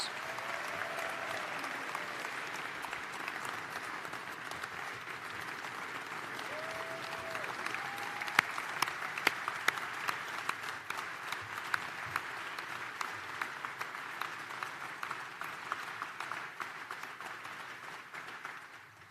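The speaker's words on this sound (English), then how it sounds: "can we recognize that service with a round of applause?" Sustained audience applause for retiring county board members at a State of the County address, a dense wash of clapping that carries steadily through the whole stretch with a few sharper claps standing out.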